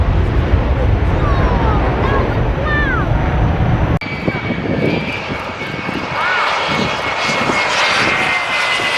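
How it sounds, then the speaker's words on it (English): A propeller airplane engine flies past outdoors, a loud broad drone with wind buffeting the microphone, shifting in tone as it passes; birds chirp faintly and people talk briefly. "That's a plane."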